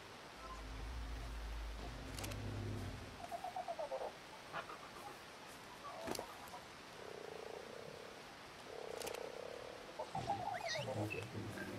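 Toads croaking in a game about taming animals alongside dinosaurs, a series of short rhythmic croaks in bursts over constant ambient game noise.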